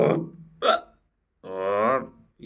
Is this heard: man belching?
yes